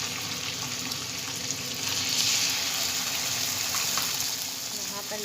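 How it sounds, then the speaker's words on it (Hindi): Chicken sizzles lightly in a hot pan for a chicken sandwich, a steady soft hiss and crackle running throughout at close range, swelling slightly partway through, with faint stirring and no talk. "थोड़ा सा हम इसे फ्राई करेंगे हल्का सा, ताकि इसका कच्चापन ख़त्म हो"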